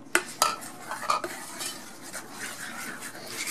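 A spoon stirs chocolate into an egg and vanilla mixture in a bowl, with a few sharp clinks against the sides followed by steady scraping and swirling, close and clear.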